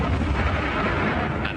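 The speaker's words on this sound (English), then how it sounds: "an explosion from below" A deep explosion from a propane gas blast booms with heavy low rumble, a dense sustained burst with no voices over it.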